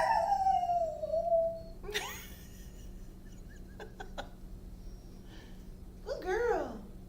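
A dog nearby lets out a drawn-out, wavering howl, then yips and howls again in short bursts, while a person speaks softly between the calls in a quiet indoor room.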